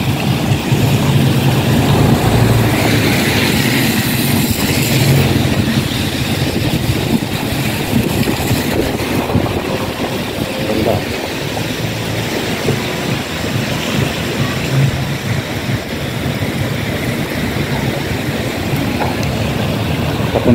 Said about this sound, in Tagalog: sundan lang natin yung agos ng tubig.